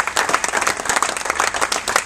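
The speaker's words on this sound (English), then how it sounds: "I think they deserve a round of applause." An audience at a chiropractic summit applauds, with a burst of many hands clapping at steady intensity, dense and close, all the way through.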